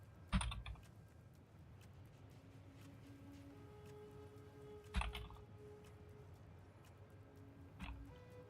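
Typing on a computer keyboard: quiet, scattered key clicks across several seconds, with a few louder clustered taps standing out, close and without speech.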